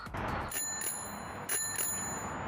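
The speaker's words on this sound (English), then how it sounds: "They have an annoying bell" Bell on a Schwinn beach cruiser bicycle, several bright metallic rings with lingering tones over outdoor city background noise, including a couple of louder strikes close by.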